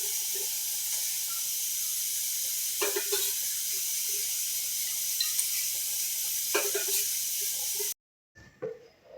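Oil sizzling and hissing steadily in a hot pan while pav masala is being prepared, loud and continuous with a couple of brief clatters, then cutting off abruptly near the end.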